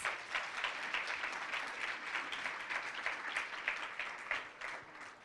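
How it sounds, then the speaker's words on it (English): Audience applause fills a school employee gathering after a performance by the San Bernardino High School Cardinal Court, steady dense clapping throughout without any talk. "Let's give them a round of applause"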